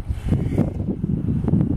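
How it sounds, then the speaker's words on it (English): Gusty wind in New Orleans' Lower Ninth Ward on an overcast, warm day buffets the microphone, a loud low rumble that surges and eases in uneven pulses. "a little windy right now"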